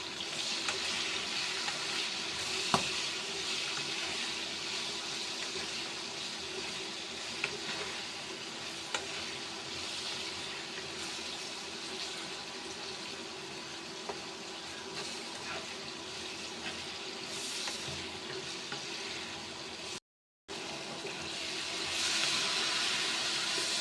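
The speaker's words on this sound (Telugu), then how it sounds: "ఈ మిర్చి కొంచెం లావు ఉన్నాయి కదా, ఫ్రై చేయడానికి కూడా కొంచెం ఎక్కువ టైం తీసుకుంటుంది" Thick green chillies fry in a pan on an electric stove with a continuous close sizzle and crackle, steady throughout with occasional faint stirring clicks and a brief gap.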